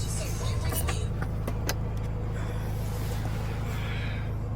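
A new van pulls away, its engine and road rumble a steady low drone throughout, with a few brief clicks and knocks from the cabin and faint voices underneath.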